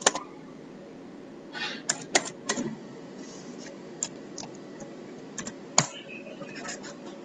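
Keys clatter on a computer keyboard as code is typed during a programming class: scattered sharp clicks and short bursts of taps, fairly close and quiet, with low room hum between them.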